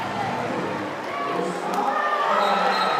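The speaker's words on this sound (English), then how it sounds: "The crowd rise to that." Spectators cheer and roar at a women's water polo match between Italy and Hungary in Budapest. The crowd noise is a steady, moderately loud wash that builds slightly toward the end.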